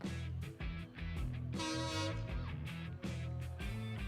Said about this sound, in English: And it has a train horn.